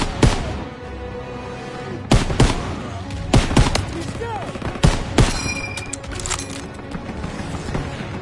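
Battle gunfire in the video game Call of Duty WW2, sharp rifle shots and bursts cracking at irregular intervals over a constant roar of combat, with distant booms and faint shouting voices.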